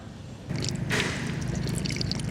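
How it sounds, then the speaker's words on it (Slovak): Water runs from a free public drinking fountain outdoors at Miami Beach, beginning as a soft splash and turning into a steady, close gush with scattered drips. "Je tu fontánka s vodou, ako zvykne bývať pri veckách."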